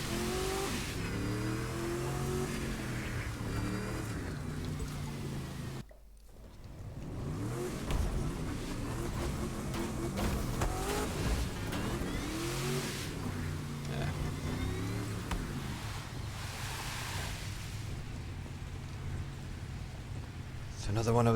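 A race car in The Crew 2 revs and accelerates on a wet road, engine pitch climbing and falling through gear changes, with a brief dip midway, while someone talks over it.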